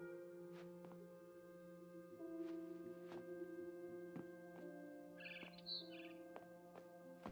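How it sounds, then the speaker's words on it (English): A barn swallow chirps outside a window in a video game scene, giving short, bright, repeated calls spaced across a quiet, steady background tone, with a brief fluttery trill near the end. "Then I heard chirping outside my window. It was a barn swallow going back to her nest."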